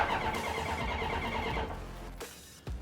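Starter of a 1983 Honda CB1100F motorcycle grinding over without catching, a steady whirring crank for about two seconds, then a brief pause and another short burst, close and fairly loud.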